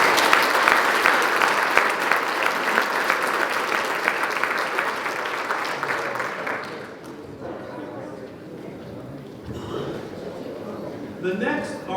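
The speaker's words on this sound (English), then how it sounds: "Give it a round of applause." Loud audience applause at a high school football awards night fills the first half, then fades out into quieter room noise with scattered voices and a few stray claps near the end.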